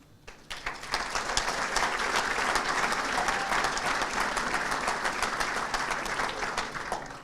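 An audience at a township's annual state-of-the-township address applauds the marketing manager with sustained, full clapping that rises quickly after a sharp start and holds steady for several seconds, loud and without talk.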